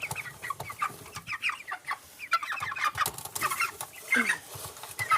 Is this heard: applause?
no